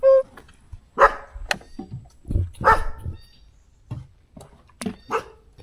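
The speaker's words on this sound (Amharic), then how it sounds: "ደሴት ላይ ውሻው ምን ያደርጋል?" Dogs on an island in Uganda bark in a series of sharp, fairly close woofs and yips, spaced irregularly with quiet gaps between outbursts.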